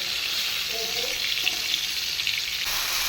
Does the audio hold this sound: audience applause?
no